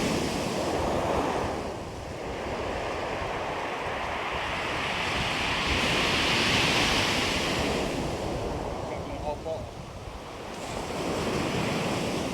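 Big rolling waves surge and break on the shingle of Chesil Beach, a loud, continuous wash that swells and recedes over several seconds, with wind buffeting the microphone.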